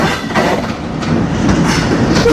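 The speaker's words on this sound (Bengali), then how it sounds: "তেল বহন করা গাড়ি, ট্রেন।" An oil tanker freight train rolls past at Poradah railway station in Kushtia, Bangladesh. The wagons rumble loudly and close, with rhythmic clickety-clack wheel beats over a continuous roar.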